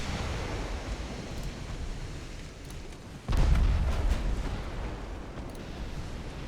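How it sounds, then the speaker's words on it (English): Big secondary guns firing from the Steyr, an 1890 Italian warship in Ultimate Admiral: Dreadnoughts, with a heavy boom cutting through steady rumbling sea and battle noise midway. "Here's big secondaries on the Steyr."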